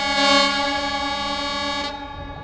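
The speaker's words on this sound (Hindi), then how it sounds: "अरे हारन की आवाज मुझे यहाँ तक सुनाई दे रही है।" A truck's air horn blares in Euro Truck Simulator 2, one long sustained tonal blast at steady loudness for about two seconds before cutting off.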